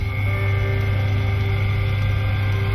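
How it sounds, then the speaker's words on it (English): A glass engraving lathe with a soft copper wheel spins, giving a steady, even motor hum with no other sounds or talk over it. "When I turn the lathe,"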